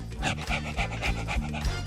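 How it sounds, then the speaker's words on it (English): A dog pants close by in quick, rhythmic breaths, short and steady, heard alone. "That's your dog?"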